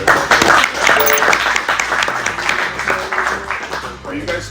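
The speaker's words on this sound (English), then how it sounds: "Give him a round of applause there." Audience applause for a guest during a casual mansion tour event, moderately loud steady clapping under and alongside talking voices with some background music-like tones.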